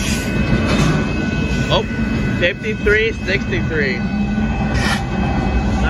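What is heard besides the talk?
Union Pacific intermodal freight train passing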